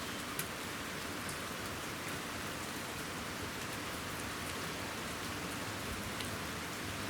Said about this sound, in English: We got one last little rain.